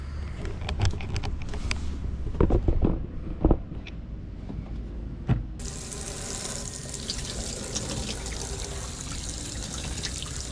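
A tap splashes scattered bursts of water, then settles into a steady, loud, hissing stream rinsing an object under the faucet.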